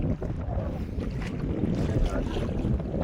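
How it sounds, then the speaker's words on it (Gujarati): Wind gusting steadily across the microphone outdoors on a fishing trip, a constant loud rumbling roar with no speech over it. "પવન આજે છે થોડો ઘણો"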